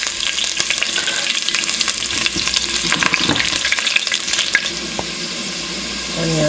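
Onion hitting hot oil in a cooking pot gives a loud, steady sizzle with crackling pops and some stirring, close and continuous throughout with no talking.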